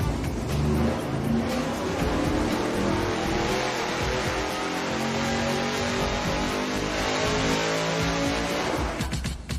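A 1,000 HP engine on a dyno revving hard through a Borla straight-through muffler, a loud, sustained, raspy exhaust roar at wide-open throttle that holds for nearly ten seconds before cutting off abruptly.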